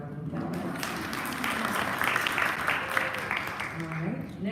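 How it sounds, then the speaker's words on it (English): An audience applauds a caregiver at a community conversation on caregiving, a steady broadband wash of clapping with voices mixed in throughout. "Everybody, let's give Juanita a round of applause."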